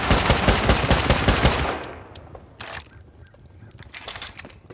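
Gunfire rattles loud and dense during a base raid in Rust and then stops abruptly. Quieter scattered pops and shuffling noises follow, and a couple of faint bursts come at the end.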